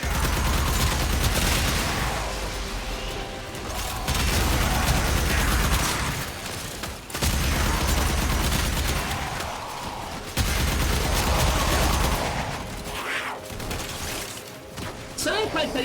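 Rapid automatic gunfire from a weapon in the video game Warframe comes in long, dense bursts with brief pauses between them, loud and continuous, backed by game effects.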